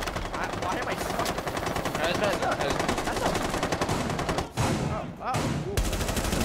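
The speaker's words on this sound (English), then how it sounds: "I'm real tired of that guy shooting" Rapid automatic gunfire from Rainbow Six Siege (Steel Wave) rattles almost continuously and loud, with short breaks near the end, while a player talks over it.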